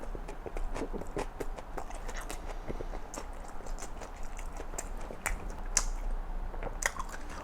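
A close, crunchy run of bites and chewing on a sausage roll, with rapid irregular crackles and soft mouth sounds, heard alone without any talking.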